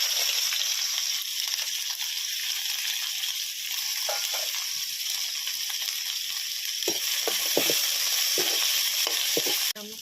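Onions fry in oil in a pan, a continuous close sizzle with soft stirring scrapes and a few sharper knocks of a utensil against the pan toward the end.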